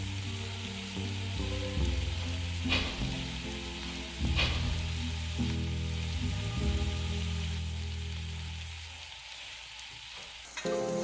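Celery and chopped carrots fry with onion in a pan, giving a steady close sizzle with a few sharp spoon scrapes and stirring clatters; the sizzle softens near the end.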